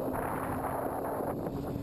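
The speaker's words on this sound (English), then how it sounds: "the wind was so bad you couldn't even hear me talk" Strong wind buffets the microphone on a motorcycle ride along back roads, a loud, steady broadband roar that fills the short stretch without a break and drowns out everything else.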